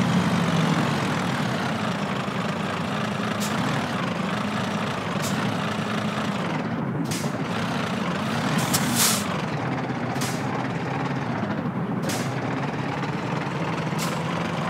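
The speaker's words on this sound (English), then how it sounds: "Let's park the trailer." A truck in Euro Truck Simulator 2 idles with a deep, steady engine rumble while parking a trailer. Several sharp air-brake hisses and bursts break in over the second half, and no one talks.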